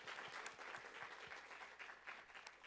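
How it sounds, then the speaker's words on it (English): Steady applause from a seated audience at a student government meeting as a Senate Excellence Award goes to the chairwoman, dense continuous clapping, fairly quiet and distant, with no voices over it. "Let's give her a round of applause."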